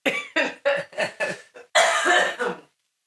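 A string of sharp coughs, five or six in quick succession, followed by a longer, harsher coughing fit that then stops.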